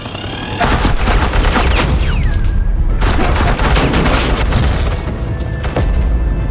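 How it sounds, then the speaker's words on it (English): Sustained suppressing gunfire in Telltale's Batman: The Enemy Within video game, a loud, dense fusillade of rapid shots and booms rolling continuously for several seconds. "suppressing fire"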